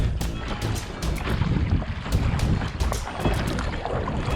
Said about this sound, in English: so while I paddle across there